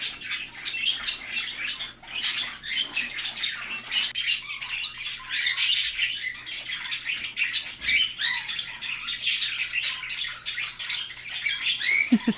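A large parrot kept with budgies lets out repeated harsh squawks and chattering calls up close, a busy, uneven run of bird noise with no talking.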